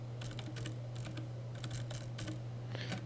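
Keys clatter in quick irregular bursts on a computer keyboard while a project is named on screen, close and steady with brief pauses and a constant low electrical hum underneath, no voices.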